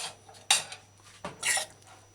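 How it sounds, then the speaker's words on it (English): A metal lid set down over a skillet of fish fillet vegetable stew, two or three faint clinks and scrapes close by in a quiet kitchen. "Use the lid, cover the skillet properly."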